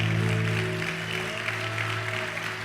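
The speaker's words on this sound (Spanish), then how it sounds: "Vamos a darle un aplauso fuerte al Señor si tú lo crees." Congregation applause for the Lord during a church service, a diffuse wash of clapping over a sustained low organ or keyboard chord, steady and moderately loud.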